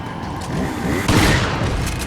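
Shotgun blast in Resident Evil 4: a heavy boom swells midway through a tense, rumbling game soundscape, loud and close, with no speech.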